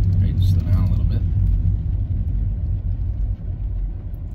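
Low, steady engine rumble and road noise inside a car during a driver's test, close and continuous.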